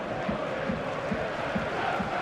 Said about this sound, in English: try and quieten the crowd, because it is such a raucous atmosphere